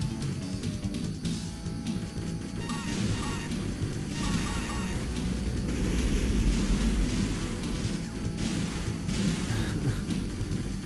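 Thunder rumbles in the distance amid heavy rain-like hiss in the After Burner II arcade game, a dense, continuous roar swelling slightly midway through with game sounds layered in.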